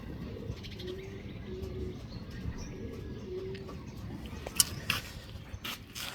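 Soft, low racing pigeon cooing repeats a few times in a quiet loft, with faint chirps and a couple of sharp clicks near the end.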